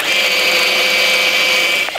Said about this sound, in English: I'm gonna drill a corresponding hole in the lever. This is a special kind of drill bit called a Forstner bit.